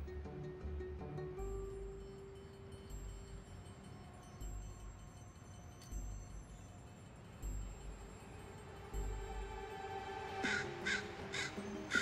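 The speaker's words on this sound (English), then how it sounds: "To many, just the tentative scold of one young crow." A young crow gives a tentative scolding call, faint and distant against a low outdoor rumble, with a few sharp, brief caws near the end.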